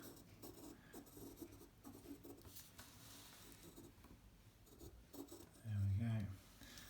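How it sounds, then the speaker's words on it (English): A pencil compass sweeps an arc across paper, giving a soft, continuous scratchy rub with a voice talking over it, and a dull thump near the end. "draw ourselves a little arc"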